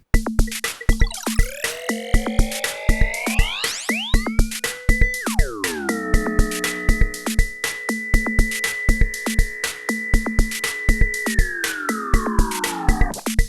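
A synth line pulses over a steady beat while its echoing delay sweeps up and down in pitch, swooping and then gliding back down.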